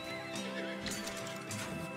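A horse whinnies loudly over busy game music in Red Dead Redemption 2, with clip-clop hoofbeats mixed in, lasting a couple of seconds.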